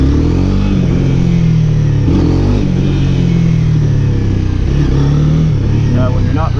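Motorcycle engine roaring loud and close during a wheelie attempt, a continuous rumble that rises and falls with throttle blips, with wind buffeting throughout and a voice speaking faintly over it.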